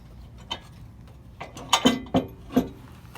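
A bolt is screwed in by hand while a rock slider is installed on a Toyota Land Cruiser 100 series, giving a few close, sharp metallic clicks and clanks spaced unevenly over a quiet background.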